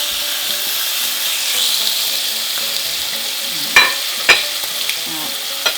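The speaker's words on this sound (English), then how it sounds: "Instant sizzle." Bacon sizzling in an already hot pan, a steady loud frying hiss with a couple of sharp pops.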